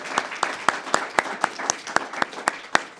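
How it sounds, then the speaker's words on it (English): Audience clapping for panelists at a Srebrenica genocide awareness event, a steady rhythm of fairly loud individual claps close by, with no talk over it. "Let's give a round of applause for the panelists"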